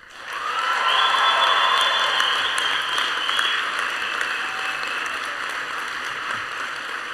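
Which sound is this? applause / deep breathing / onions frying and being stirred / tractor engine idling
applause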